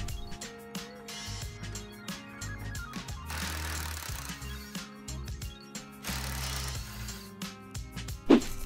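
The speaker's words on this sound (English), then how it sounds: "with the 19mm socket, I'm going to remove both bolts from the front lower ball joint attachment" A 19mm socket on a ratchet removes the bolts from a car's front lower ball joint: repeated close ratcheting clicks come in bursts, ending with a sharp metallic clank, and no one talks.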